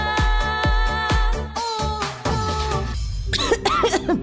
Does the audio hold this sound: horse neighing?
no